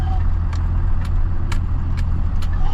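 A pickup truck drives with a low, steady engine drone and rumble. A few faint light clicks and rattles sit on top of the close, continuous motor sound.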